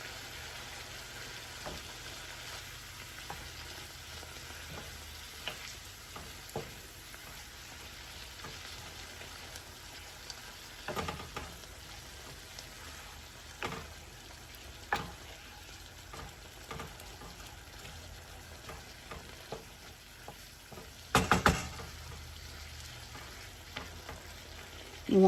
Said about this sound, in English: Just keep mixing this around and chopping your meat because you want it fine.